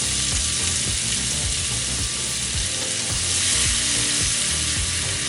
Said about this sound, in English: And now I'm going to add a couple tablespoons of butter into the mix here.